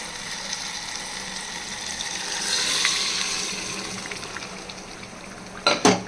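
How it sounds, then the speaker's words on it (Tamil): Mashed arai keerai greens go into a pan of tempered onion, giving a steady soft sizzle that swells briefly midway, then a couple of sharp metallic clatters near the end. "இப்போ இந்த கீரையை இதில் ஆட் பண்ணிவிடுவோம்."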